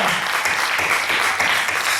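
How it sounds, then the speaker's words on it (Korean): A church congregation at a Wednesday worship service claps together, a loud, dense and sustained round of applause filling the room evenly from start to finish. "오늘 자녀의 영광과 영광의 박수를 드립니다."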